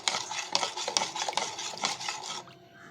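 Coffee powder stirred briskly into 500 ml of water with a teaspoon, a continuous close scraping, clinking swirl that runs steadily for a couple of seconds and then stops.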